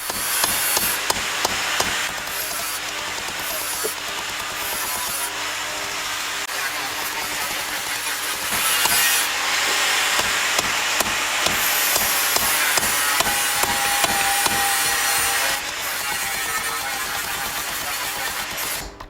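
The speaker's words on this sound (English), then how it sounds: "working a bit more on the waist of the arrowhead by whacking it against the side edge of the anvil" Hot steel arrowhead socket being hammered on an anvil, with repeated sharp ringing strikes in irregular bursts against a constant roaring forge hiss, close up and with no talking.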